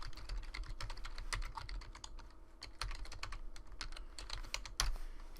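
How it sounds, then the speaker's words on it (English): Rapid keystrokes clatter on a computer keyboard as a web address is entered, a quiet close run of irregular taps with short pauses. "We simply go to any internet web search page, type in the URL,"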